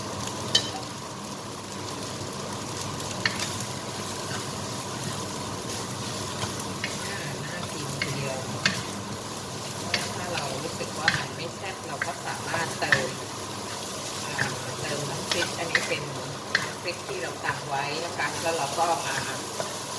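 Continuous sizzling of rice stir-fried in a hot pan with repeated scraping and tapping of a spatula as it is tossed and stirred, loud and close throughout.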